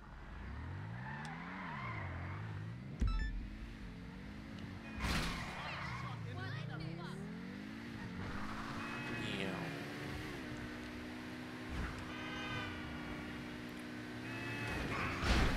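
A small electric car drives in GTA V, its motor whine rising and falling in smooth sweeps through turns, with occasional tire skids and bumps, while someone talks over it.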